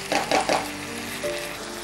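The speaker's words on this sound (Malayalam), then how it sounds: "ഇത് നമ്മൾ കുറച്ച് നേരം അടുപ്പിലിട്ടിങ്ങനെ ഇളക്കി കൊടുക്കും." Chicken peralan stirred in a pan on the stove, giving a soft, steady sizzle with a few brief scraping bursts near the start, quiet and close, with no voices.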